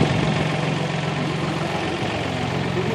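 A model 4000 tractor engine idles steadily at a farm equipment auction, a continuous low, rumbling drone with a faint vibrating hum, close by and unbroken for the whole stretch.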